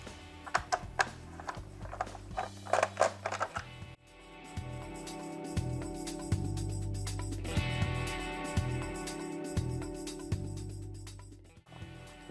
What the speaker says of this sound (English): So let's pop those 4 screws out.